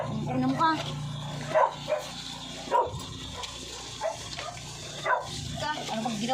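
A dog barks and yips in short sharp bursts at irregular intervals, with a few whimpers, close by while people talk loudly and argue over a background hum.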